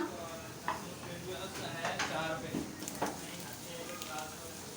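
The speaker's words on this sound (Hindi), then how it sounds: "सब्जियाँ हल्की फ्राई हो चुकी हैं।" Vegetables for street-style chicken noodles fry lightly in a pan, giving a steady moderate sizzle broken by several sharp clinks and scrapes of stirring, with a possible faint voice underneath.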